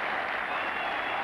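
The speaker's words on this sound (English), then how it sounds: "The England players come out to applaud" Steady applause from a cricket crowd for a century, with players joining in, a dense wash of clapping filling the whole moment without breaks.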